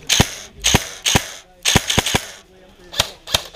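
Airsoft gun firing at an outdoor field game, with sharp snapping shots in short bursts of one to three, close and loud, separated by brief pauses with faint background noise.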